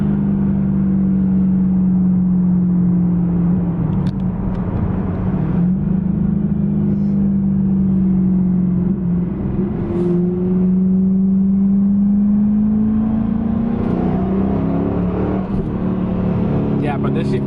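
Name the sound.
rebuilt 550 hp manual Camaro accelerating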